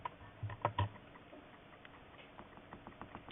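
A pencil tapping dots onto paper laid over a portfolio for shading, a few sharper taps early on followed by a quiet, irregular run of light ticks, close up with no talk.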